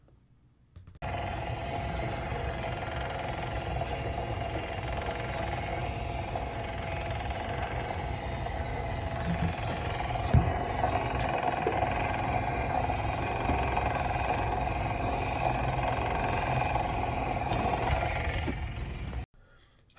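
A diesel exhaust fluid pump running with aerated fluid gives a steady, continuous mechanical hum and drone, unchanged for the whole stretch, with no voices over it.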